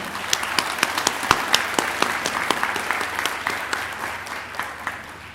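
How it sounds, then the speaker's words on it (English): An audience applauds a youth orchestra from Selangor at a concert, with steady, dense clapping from many hands, fairly distant and even, tapering slightly toward the end. "Please join me to give them a warm round of applause"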